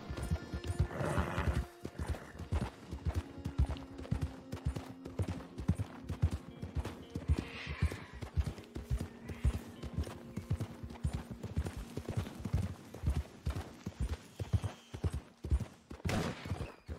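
Horse hooves clop and gallop steadily in the video game Red Dead Online, close and rhythmic, with occasional neighs and distant gunfire.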